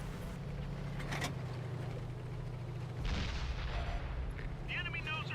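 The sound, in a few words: tank gunfire in World of Tanks video game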